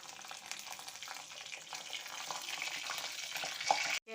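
Black cumin seeds tempering in hot mustard oil crackle and sizzle steadily in a pan, a close, dense frying hiss that holds for a few seconds and swells slightly toward the end.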